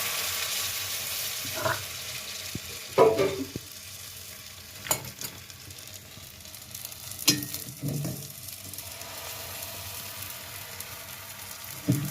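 Patishapta pitha batter cooks in a hot, oil-brushed kadai, giving a soft sizzle broken by several sharp scrapes and taps from a spatula, heard close up with nothing else around it.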